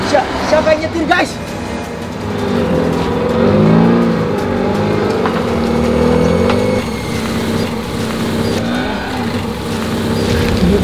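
A car engine runs and revs, rising and falling in pitch with a few surges, heard under frequent talking voices that continue throughout.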